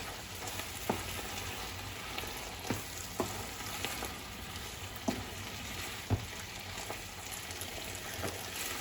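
Pappardelle sizzling in truffle sauce as it finishes cooking, a soft continuous frying hiss with occasional faint clicks of stirring spaced a second or so apart.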